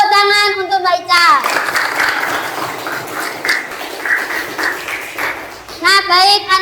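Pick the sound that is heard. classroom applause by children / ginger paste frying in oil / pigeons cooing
classroom applause by children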